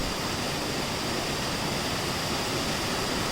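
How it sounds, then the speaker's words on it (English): A waterfall on the Kunool Nala near the Vashisht temple in Manali gives a steady, dense roar of rushing water with no pauses throughout. "this is the very first waterfall"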